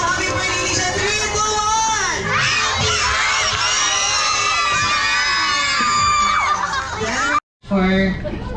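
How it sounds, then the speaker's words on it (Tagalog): A group of children at a birthday party shout together in a loud, excited burst of cheering voices that carries on for several seconds, with a brief cut near the end. "Alright kids, sabay-sabay sigaw. Happy birthday Alicia."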